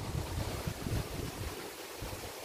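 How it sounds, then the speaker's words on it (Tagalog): Wind gusts roar and rumble across the microphone outdoors in an apple orchard, a loud steady rush with no talking. "Kasi mahangin, windy dito."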